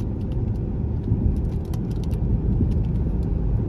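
A car rolls along the road with a steady low interior rumble, close and continuous, with a few faint clicks and rattles over it.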